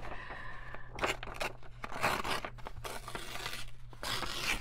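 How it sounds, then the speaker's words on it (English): Old paper is torn by hand in several ripping bursts with short pauses, close and crisp in a quiet craft workspace while junk journal envelopes are being made. "I'm gonna tear this like this because maybe there will be something here of salvage"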